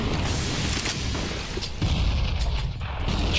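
Three grenades bursting at sandbags on the Inferno map in a professional CS:GO match. Dull, muffled booms come in quick succession, spaced almost evenly, amid constant background crowd noise.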